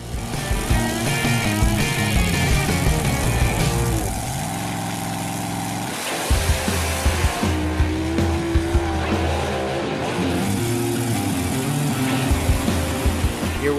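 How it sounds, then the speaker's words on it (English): Cartoon monster trucks race in a loud, continuous rush of engine roar and tire noise, with a brief dip near the middle before the racing din resumes, all set under a busy musical score. "Monster truck with the number 10 bypasses monster truck number 7."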